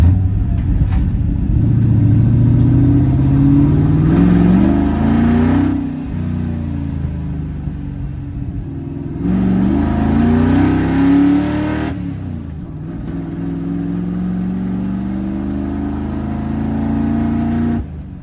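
A 383 big block V8 in a 1974 Dodge W100 truck revs hard in repeated loud bursts, its deep rumble rising and falling with short pauses between pulls.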